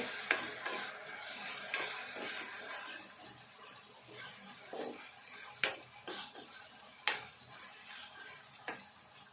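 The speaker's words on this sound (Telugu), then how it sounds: "ఎందుకంటే ఈ కారం వేగాలి ఈ నూనెలో." Chili powder frying in hot oil for a chicken giblet tempering, stirred with a metal utensil: a steady faint sizzle with scattered clinks and scrapes against the pan, no talking.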